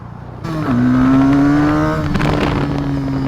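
A 2017 SSR pit bike engine, a Honda Grom clone, revs up sharply from idle and holds a loud, buzzy, rising pitch before easing slightly, close to the listener with no talking.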